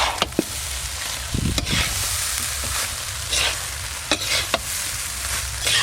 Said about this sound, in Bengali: সব কিছু একসঙ্গে খুব ভালো করে মিশিয়ে নেব। একটু ভালো করে ঝাঁকিয়ে ঝাঁকিয়ে মিশিয়ে নেব।